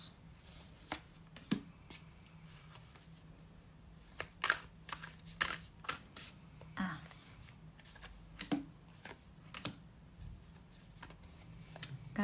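A deck of tarot cards is shuffled repeatedly, giving a stream of crisp close card snaps and slides with irregular rhythm, while someone speaks quietly at times.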